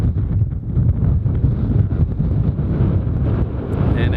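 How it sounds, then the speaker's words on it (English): A strong headwind buffets the microphone during a long-distance bicycle ride in Azerbaijan or Iran, giving a loud, steady, low roaring rumble with no voices. "I've got a headwind all of a sudden."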